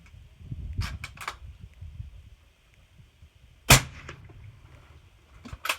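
A single sharp, loud shot from a Ruger .308 rifle with a 23-inch barrel, suppressed by a Thunder Beast Ultra 7 and firing PMC Gold ammunition, cracks out of an otherwise quiet outdoor scene with faint handling noises around it.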